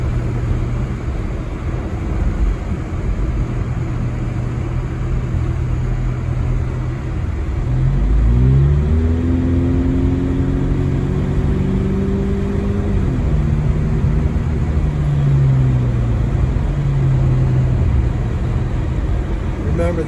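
A car drives fast along a snowy road during a heavy blizzard in Big Bear, its engine a steady low rumble under constant wind and road noise, with the engine pitch rising and shifting midway.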